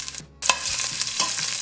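Garlic and ginger frying in a pan with a steady, close sizzle that briefly drops out, then stirring clatter and continuous crackle resume.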